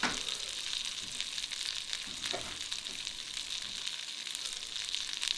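A peppered steak sizzles in a hot pan with oil while being cooked as steak au poivre. The crackling hiss is close and continuous, with occasional soft stirring or basting noises.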